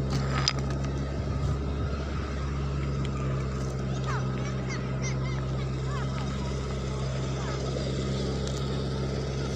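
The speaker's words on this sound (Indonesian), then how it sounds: "Semoga sahabat YouTube tidak terganggu oleh suara mesin ya" A motor drones steadily and continuously at close range at a gold mine, low and rumbling, with faint scattered clicks on top.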